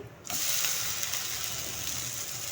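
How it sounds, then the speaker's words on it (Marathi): A vegetable uttapam roasts on a hot pan, giving a continuous close sizzling hiss that starts suddenly and stays even throughout. "आता मी याला दुसऱ्या बाजूने भाजते"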